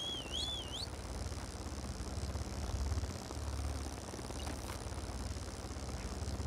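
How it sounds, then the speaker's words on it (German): A creature in the survival video game ARK Survival Evolved drones like a helicopter, a steady throbbing engine-like hum that runs unbroken throughout, with a brief high whistle near the start. "Macht die einen Lärm, so Helikopter gebrumselt hier."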